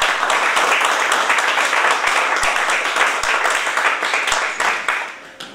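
Steady applause from an audience at a poetry reading session, dense and continuous for several seconds with a few sharper claps poking out near the end.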